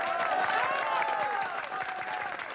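Audience applauding Rose's mother, who came to cheer on her daughter and son-in-law at a bed marathon, a dense steady patter of many hands with a bright tonal music-like layer running through it.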